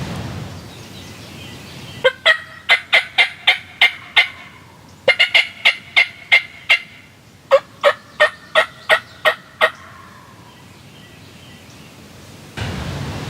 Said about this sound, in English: the bird gobbled